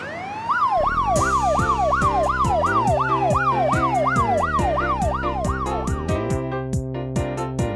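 A loud rescue vehicle siren from a children's toy song wails up and down repeatedly, alongside bright electronic tones and chiming notes, with no talking.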